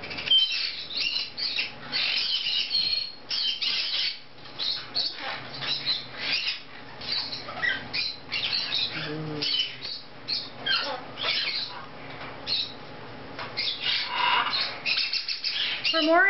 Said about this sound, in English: For more information on Nigel, the Triton male cockatoo, or any of our other birds